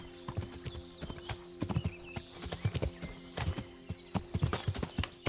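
Horse hooves clip-clop in Kingdom Come: Deliverance as a horse is ridden off the path, a brisk irregular run of close, loud hoof strikes with a brief whinny, no talking over them.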